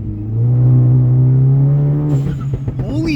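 Tuned VW MK7.5 GTI pulls hard under acceleration, its engine note rising steadily before a quick gear shift breaks into a rapid, choppy burst near the end, loud and close.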